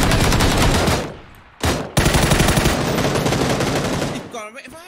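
Rapid automatic gunfire in PUBG, loud and close, with a sustained burst, a short pause, a single shot, then another long stream of shots before it cuts off.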